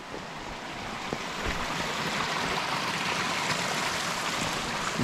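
Rainwater runs down a small rocky gully in a food forest during rain, a steady broad rushing and splashing flow with no voices.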